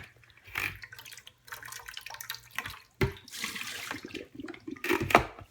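Water poured out into a kitchen sink during meal prep, sloshing and splashing in irregular gushes with short pauses, close and fairly loud, ending in a heavier splash.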